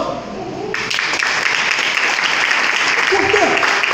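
An audience at a motivational talk bursts into applause, clapping rising quickly and holding steady and fairly loud, mixed with some crowd voices.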